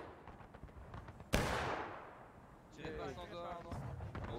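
A single heavy artillery boom from the War of Rights Civil War battle game strikes sharply, then rolls away in a long fading rumble, with faint distant musket volleys and a voice talking afterward.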